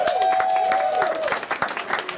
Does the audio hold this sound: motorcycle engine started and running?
no